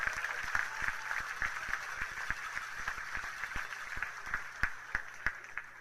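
Applause from an audience at an awards ceremony, scattered sharp claps rising over a steady wash of clapping, moderately distant and fairly even throughout.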